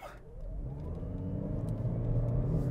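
Toyota Corolla GR Sport Hybrid 2021 pulling away hard from a roundabout into traffic, its engine rumble building steadily in a low droning tone heard from inside the cabin.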